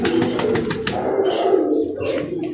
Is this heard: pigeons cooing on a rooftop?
yes